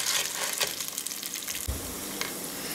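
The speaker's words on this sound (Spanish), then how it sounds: "Que se dore aquí muy bien la pasta." Pasta shells sizzle steadily as they brown in a frying pan, a close, even hiss with occasional stirring scrapes and no talking.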